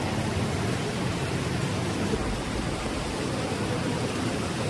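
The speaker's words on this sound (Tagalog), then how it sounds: "Lakas pa ng hangin." Heavy rain and strong wind during Typhoon Enteng in the Philippines, a loud, dense and continuous roar with no talk.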